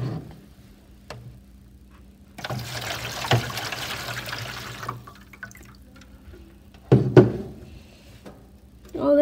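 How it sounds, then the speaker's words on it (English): Water trickling and dripping against a homemade dam of sticks, mud and clay, with faint intermittent drips, a burst of splashy flow in the middle and a sharper sloshing sound near the end. "Now we will see if my dam holds water back."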